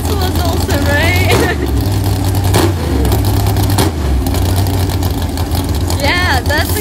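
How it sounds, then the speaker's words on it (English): A drag racing car with a huge engine roars loudly and close, its revs rising and falling in harsh bursts while people nearby talk excitedly over the noise. "Yeah, that's a huge engine."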